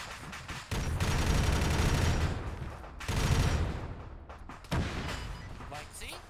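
Sustained bursts of gunfire aimed at the player in a Warhammer video game, loud rattling volleys broken by short gaps, with talk mixed in.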